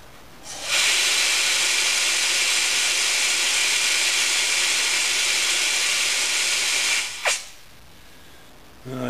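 Compressed air hisses steadily into a Mazda Miata cylinder head during a pressure test, a loud, even rush lasting several seconds before cutting off with a brief sputter.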